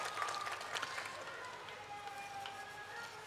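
An audience at a political rally applauds to welcome a guest, a broad crowd clapping that stays fairly steady, heard at some distance with a faint voice over it.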